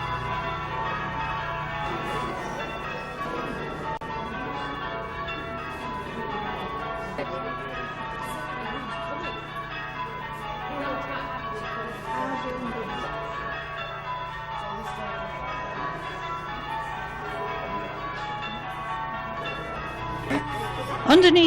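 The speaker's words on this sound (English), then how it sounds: "Change Ringers were attempting to ring a special peal, exactly the same as that rung in 1803." Church bells in Burnley ring a special change-ringing peal matching one rung in 1803, a continuous sequence of overlapping metallic strikes heard at moderate distance, steady and unbroken throughout.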